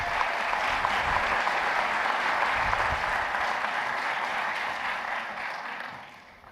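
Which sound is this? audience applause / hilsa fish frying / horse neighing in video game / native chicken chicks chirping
audience applause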